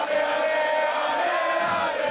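A crowd of football supporters cheers outside Le Mans town hall at a festive gathering, a dense roar of many voices with shouts and whoops swelling throughout.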